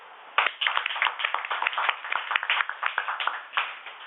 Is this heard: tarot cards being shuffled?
no